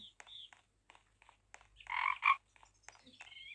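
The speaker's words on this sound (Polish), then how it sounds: "Słyszałem żabę." In a horror video game, a frog croaks in a few short, raspy bursts with a louder double croak near the middle, mixed with scattered soft clicks over an otherwise quiet background.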